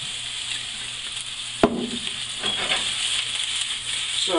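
Mushrooms fry in oil in a pan with a steady, close sizzle, broken by one sharp clack of a utensil partway through.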